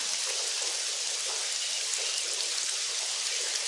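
Steady rain in the video game Silent Storm, a dense, even hiss of falling drops that continues without pause, moderately faint and with no voices over it.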